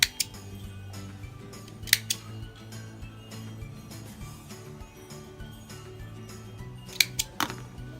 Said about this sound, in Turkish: Şimdi buradan kesiyorum.